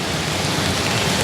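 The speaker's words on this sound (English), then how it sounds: "the rain is coming down" Heavy rain pours down in a dense, even hiss that stays loud and constant throughout, with no voices.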